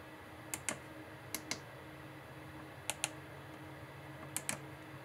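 Crisp plastic button clicks on a Cockpit Master CDU flight sim control unit, pressed in quick pairs with short pauses between, close and clear over a faint steady hum, no talking.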